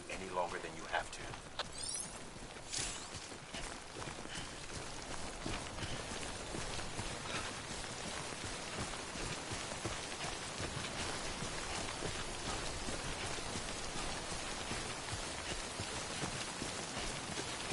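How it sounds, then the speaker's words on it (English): Steady rainfall, the timefall of the Death Stranding video game, hisses evenly throughout with faint patters and some clicks near the start, at a soft level and without speech. "Don't stay out in the rain any longer than you have to."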